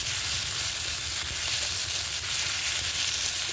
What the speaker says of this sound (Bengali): পেঁয়াজটাকে অল্প ভেজে নেব